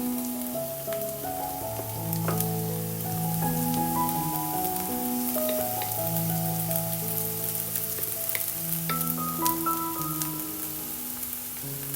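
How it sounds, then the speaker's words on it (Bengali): Spice paste for chicken tikka cooks in a pan with a little water, giving a soft, steady sizzle and bubbling beneath a louder melody that plays throughout. "সামান্য পানি দিলাম দিয়ে মশলাটা কষিয়ে নিতে হবে"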